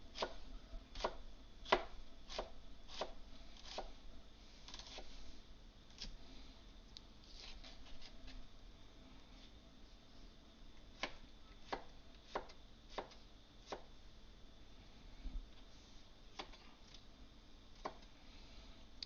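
A knife chops vegetables on a cutting board for a vegetarian ramen, giving a long run of crisp, irregular taps with short pauses between bursts; close but fairly quiet, with no talking.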